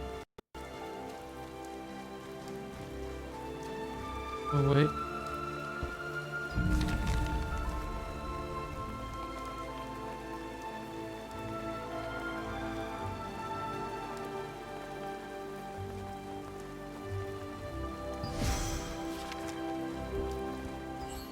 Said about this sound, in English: It's raining anyway.